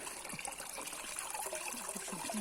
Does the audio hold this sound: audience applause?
no